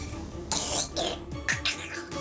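Several short, harsh whooping-cough coughs in quick succession, close and fairly clear, with a throat-clearing quality between them.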